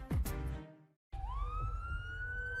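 An ambulance siren in a hospital advert wails loudly and close, a rising electronic tone that sweeps upward and holds, following a brief burst of other sound and a short silence.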